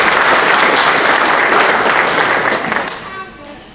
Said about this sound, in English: One round of applause for our volunteers of the church.